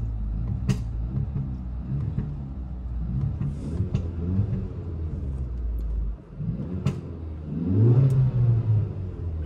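A car engine rumbles and revs up repeatedly, deep and close, with a few sharp clicks and a louder surge near the end.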